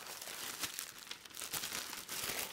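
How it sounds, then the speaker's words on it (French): Plastic packaging crinkles and rustles close by in continuous irregular bursts, with no one speaking. "Pardon pour les bruits de plastique"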